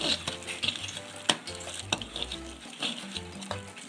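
Gram flour dough being mixed by hand with water in a bowl, producing soft, wet squelching and stirring sounds in close, steady strokes with occasional light knocks.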